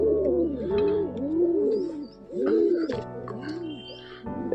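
Madras pigeons coo close by at home, a run of soft, rounded, repeated coos in a steady rhythm with brief pauses, clear and fairly loud, and no one speaking.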